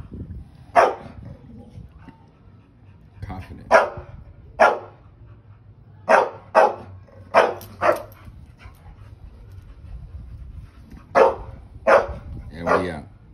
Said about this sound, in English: quit that yapping